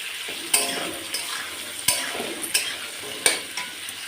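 Peas go into cauliflower frying in a pan: a continuous crackling sizzle with repeated spatula scrapes and clinks against the metal at an uneven rhythm.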